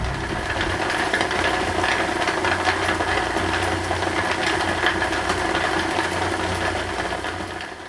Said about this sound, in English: the machine has been running in my workshop, rumbling away